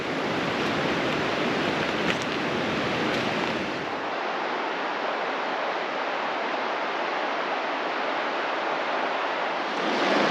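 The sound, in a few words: river flowing at a river crossing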